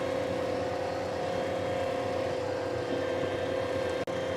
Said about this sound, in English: You can hear the engine pulling down maybe.